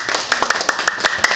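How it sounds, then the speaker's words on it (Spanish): Brief audience clapping, a quick run of sharp, distinct claps lasting just over a second. "Un aplauso por favor para mi buen amigo Carmix."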